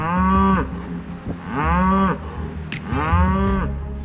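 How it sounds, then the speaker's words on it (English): Snow-covered farm cows moo loudly nearby, three long drawn-out calls in a row with short pauses between them. "the snow-capped cows outside are already singing for their breakfast"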